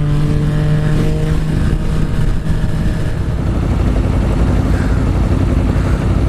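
A motorcycle engine runs steadily after a spark plug replacement on a ride near Payson, with a loud, close, continuous drone and harmonic tones that shift slightly as the revs change.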